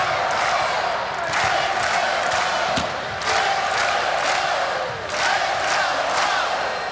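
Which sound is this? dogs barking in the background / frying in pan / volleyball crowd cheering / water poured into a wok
volleyball crowd cheering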